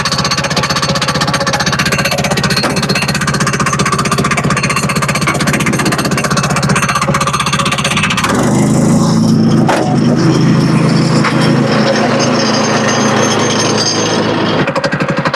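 A SuperSplit log splitter's small engine runs loud and close after a pull-cord start, a dense rapid hammering roar that shifts in pitch partway through and keeps going without a break.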